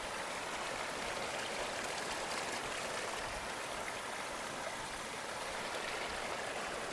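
A village stream runs in a steady, even wash of flowing water with a soft bubbling texture, quiet and continuous with no voices.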